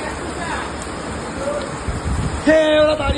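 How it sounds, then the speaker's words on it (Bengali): Heavy rain on Mousuni Island during a power cut, a dense steady downpour pattering on surfaces, growing louder in the final second, with faint background voices. "আর জোরে বৃষ্টি নেমেছে।"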